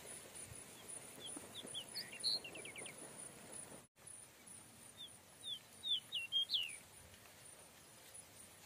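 A small sparrow-like bird sings outdoors at evening, short bright chirps and quick rising trills in two bursts, clear but not loud, over a faint insect and rural background hum.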